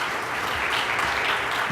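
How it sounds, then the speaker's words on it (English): Steady audience applause for a panel of speakers, dense and even throughout, with no voices over it. "please give us a round of applause for these great panelists"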